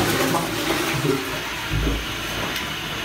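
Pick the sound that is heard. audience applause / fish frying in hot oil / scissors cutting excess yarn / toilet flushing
toilet flushing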